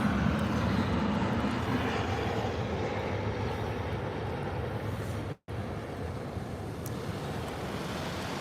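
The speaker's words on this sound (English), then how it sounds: "Not a bad landing there from the KLM team." A KLM airliner landing at Birmingham airport, a steady broad jet roar with wind-like rush held at an even level throughout, broken only by a brief dropout midway.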